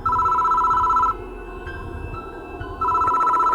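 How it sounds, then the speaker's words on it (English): A desk telephone rings in the video game Spirit Hunter: Death Mark II, a loud electronic trill that sounds for about a second, pauses, then starts again, over a low ambient background. "The phone on the desk is ringing."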